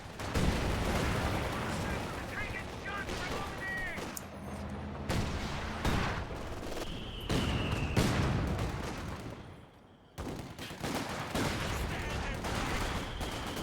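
Mortar blasts and bursts of gunfire in a real-time strategy game battle, with dense, continuous explosions and shots layered over one another and a short lull near the end.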